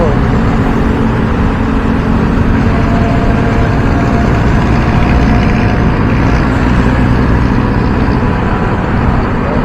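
Steady, loud street traffic of motorcycles and cars on Katipunan, a continuous engine rumble with no breaks from start to end.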